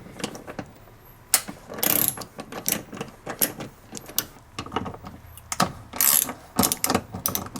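A ratchet removes 10 mm bolts from a Toyota GR86 engine during crank pulley work, giving repeated close, crisp bursts of clicking separated by short pauses.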